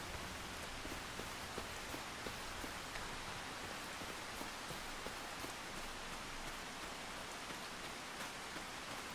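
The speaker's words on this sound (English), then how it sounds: "And it currently is raining" Steady rain in the Farming Simulator 25 video game, a dense even hiss of falling drops that holds constant throughout with no voices.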